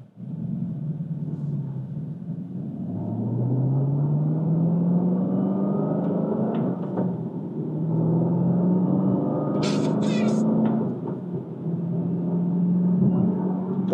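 A 2022 Chevy Camaro ZL1 muscle car drives past at close range, its engine rumbling steadily and rising in pitch through two accelerations, loud and without talk.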